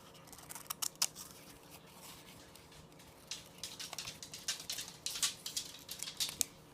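Scissors snipping through newspaper while shaping paper rose petals, a run of quiet, crisp cuts that start sparse and grow denser and louder toward the end, with no voices.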